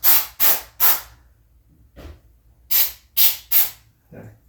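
Short spray nozzle bursts of cleaner go into the idle air control on a Twin Cam motorcycle engine with the air filter removed: three quick hissing sprays, a pause with a soft knock, then three more close bursts.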